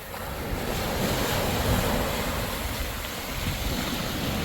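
Ocean surf rolls onto a beach in a broad continuous wash, loud and close, with wind buffeting the microphone throughout.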